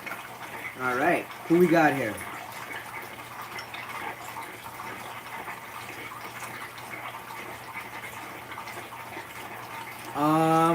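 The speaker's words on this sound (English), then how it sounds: "There we go. Water coming now." Water runs steadily from a tap into a fish tank, a soft continuous hiss beneath brief bursts of speech at the start and end.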